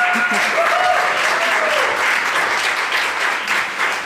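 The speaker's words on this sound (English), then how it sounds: "the applause is yours" Loud, sustained applause from a summit audience fills the hall, with a voice faintly audible beneath the clapping.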